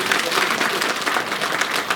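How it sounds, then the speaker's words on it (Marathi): Crowd applause fills a village meeting of people from twenty-four villages, a dense, steady clapping that stays loud and even for the whole stretch. "टाळ्या वाजवा टाळ्या वाजवा"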